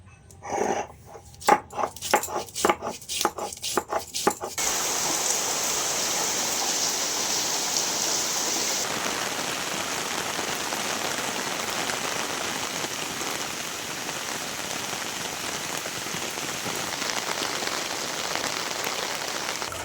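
Taro leaves are washed under running water: a few seconds of rapid splashy bursts give way to a steady, loud, close rush of water pouring and spattering, continuing alone without speech.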